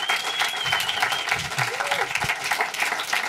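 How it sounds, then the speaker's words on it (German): An audience at a film screening and talk applauding, a dense steady wash of many hands clapping for a few seconds, with some voices faintly underneath. "Großen Applaus"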